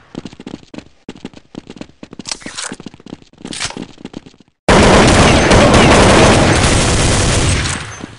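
Bursts of automatic gunfire in Counter-Strike 1.6, sharp cracks that start sparse and build into a loud, sustained volley lasting several seconds before tapering off, with no talking.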